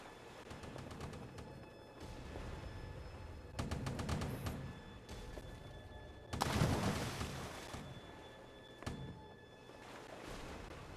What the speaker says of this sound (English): that is when you begin to hear, especially you, Zygo, booming in the distance